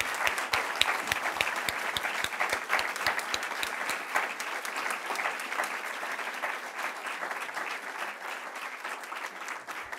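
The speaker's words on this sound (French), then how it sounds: "une bonne pleine d'applaudissements" An audience at an honour-roll awards ceremony gives sustained applause. A dense wash of clapping continues steadily, with a few distinct nearby claps standing out at the start, and no voices.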